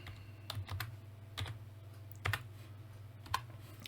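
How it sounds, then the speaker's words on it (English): Keys clatter on a computer keyboard in a few short bursts of typing, close and fairly quiet over a steady low hum, with brief gaps between the bursts. "if you just type startup"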